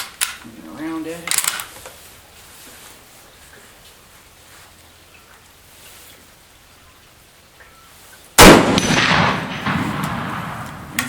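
A rifle round strikes a half-inch AR500 steel target: after a long quiet stretch with a faint earlier pop, one sudden loud impact hits and trails into a bright, washy ring that fades slowly.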